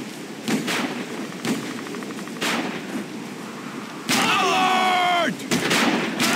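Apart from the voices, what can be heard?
gunshots in the video game XIII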